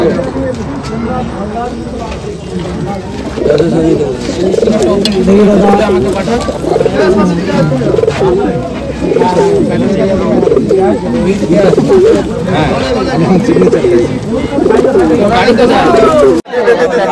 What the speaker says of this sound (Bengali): বন্ধুরা সোমনাথদা পায়রা ছাড়বে